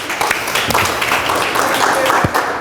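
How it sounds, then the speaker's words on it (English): A colloquium audience applauds at the close of a talk, a dense, steady wash of clapping across the whole short stretch with some voices mixed in. "I want to applaud you guys."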